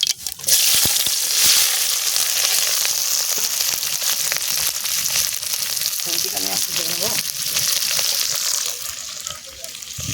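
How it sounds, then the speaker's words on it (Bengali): Cumin seeds, onion and green chillies frying in hot oil, giving a steady, loud sizzle throughout with a few stirring clatters partway through. "তেল গরম হয়ে গেছে পরিমাণ মতন গোটা জিরে দিয়ে দেবো দিয়ে দেবো পেঁয়াজ আর কাঁচা কাঁচা লঙ্কা"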